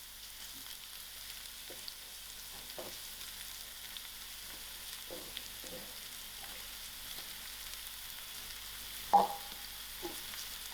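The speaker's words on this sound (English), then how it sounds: "I will allow my mushroom to fry." Rinsed, sliced mushrooms frying in a pan, a faint continuous sizzle under occasional soft clicks and taps of stirring, one sharper knock near the end, no talking.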